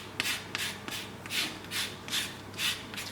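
A grater rasps against an untreated lemon in rhythmic scraping strokes, about seven close, evenly spaced swipes with brief pauses between them, while madeleines are being made.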